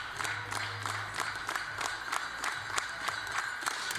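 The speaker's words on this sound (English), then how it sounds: "Nice to see the crowd clapping along" Crowd at a junior women's 10m air rifle team bronze medal match claps along in a steady rhythmic beat, moderately loud and evenly spaced throughout.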